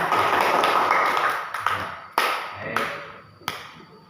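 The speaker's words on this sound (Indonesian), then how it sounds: "ya 100 tepuk tangan." A classroom of pupils claps hands during a religious education lesson, a dense patter of claps fading out with a few louder separate claps near the end.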